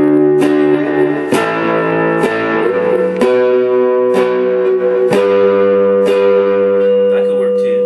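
An electric guitar strums a slow series of chords, each struck clearly and left to ring before the next.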